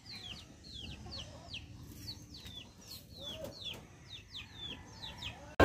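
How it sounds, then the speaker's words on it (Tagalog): Chicks clucking and peeping while foraging, a string of short, high chirps repeating steadily at moderate distance over faint background noise. "Mga sisiw naglilimot-limot ng mga patoka."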